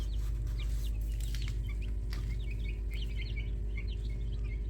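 Chickens clucking steadily in a crowded group, with overlapping calls over a constant low hum, close and fairly loud.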